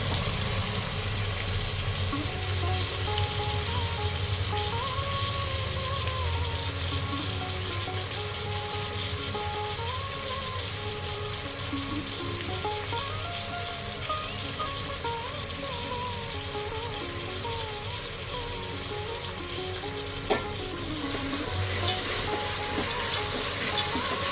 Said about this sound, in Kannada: ಮೆತ್ತಗಾಗಬೇಕು, ಫ್ರೈ ಆಗಲಿ, ಲೋ ಫ್ಲೇಮ್ ಮಾಡಬೇಕು.